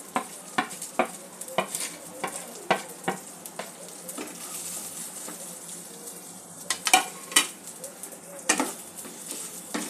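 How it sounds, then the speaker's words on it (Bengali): Rice coated in spices is lightly fried in a pan, a soft sizzle under repeated scraping stirs and clinks of a spoon against the pan, steady and close. "চালটা একটু হালকা করে ভাজতে হবে।"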